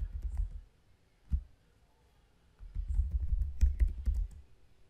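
A few bursts of keystrokes on a computer keyboard enter a terminal command, scattered clusters of clicks separated by quiet gaps.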